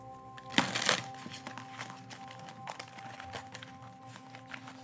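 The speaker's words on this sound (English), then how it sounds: "This deck is a little harder for me to shuffle." Oracle cards from a deck that is hard to shuffle, riffled in one loud burst of crisp papery flicks near the start, followed by softer rustling and handling noises in a quiet room.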